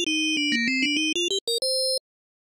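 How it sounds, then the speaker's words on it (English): A metallic FM synthesis tone, with a ninth-harmonic modulator on a carrier tuned to 1, plays a quick run of bell-like notes stepping down then up, ending on a held note. Loud and clean, with no voice. "it makes a bit of a metallic sound"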